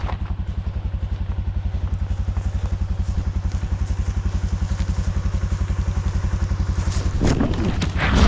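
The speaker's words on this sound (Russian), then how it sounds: "У нас у обоих между ног мотоциклы Charmax Motors Power Max 320." A Sharmax Motors Power Max 320 cross motorcycle engine runs close and loud with a fast, steady thumping pulse, swelling slightly louder near the end; no talking.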